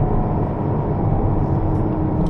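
A supercar accelerates around the Rockingham track, heard as a steady broadband engine and road roar from inside the car, loud and continuous with no voices.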